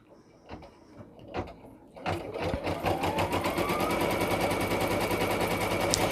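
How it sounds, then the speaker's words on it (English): An embroidery machine starts with a few separate clicks, then stitches a tack-down line through layered appliqué fabric as a loud, rapid, steady mechanical chatter with a rising whine. "it's going to stitch the tack down stitch, which holds the fabric in place"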